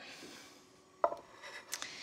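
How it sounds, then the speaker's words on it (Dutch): A knife slices mushrooms on a board, a few quiet thuds and scrapes against faint background hiss. "En ik ga ook al champignons snijden."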